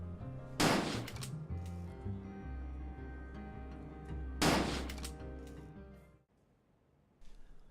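Ranged weapons fire in the fantasy game Legends of Aethereus: two loud, sharp shots a few seconds apart, each with a ringing tail, over a low droning game soundscape that drops away near the end.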